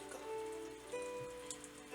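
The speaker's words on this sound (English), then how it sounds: "Couldn't hear Lance's voice amongst the pouring rain" Pouring rain drums steadily and close on a surface beside a pile of discarded trash, a dense continuous patter that runs alone for two seconds with a faint tonal hum underneath.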